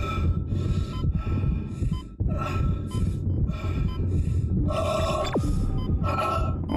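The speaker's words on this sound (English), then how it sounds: "I can hear my heart beating." Video game heartbeat in Dead Space, a loud, steady throbbing pulse of regular low thumps running throughout, with a hum beneath it.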